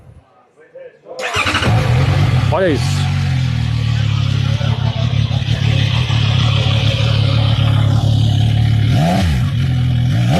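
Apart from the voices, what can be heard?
CFMoto 675NK three-cylinder motorcycle engine starting and revving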